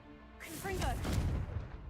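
A Confringo fire spell blast in the Hogwarts Legacy video game erupts as a sudden loud burst with a crackling, whooshing tail lasting about a second and a half, with a voice speaking faintly underneath.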